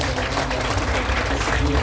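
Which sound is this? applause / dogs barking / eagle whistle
applause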